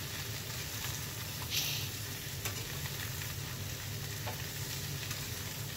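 Sliced chayote and carrots frying in a pan for ginisang sayote, a continuous crackling sizzle with a few sharper pops and scrapes of stirring, close up and with no talking.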